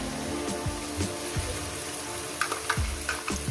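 Onions and spice paste for Bengali mutton kosha fry and sizzle steadily in a pan, a constant crackling bed broken by periodic scrapes and clanks of a spoon stirring, close by and without voices.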